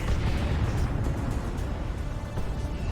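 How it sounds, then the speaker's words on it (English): An incendiary blast in the Warhammer 40k: Dawn of War 2 video game, a dense, steady roar of fire and explosion noise that fills the whole stretch with a loud rumbling wash. "Oh, there's the incendiary."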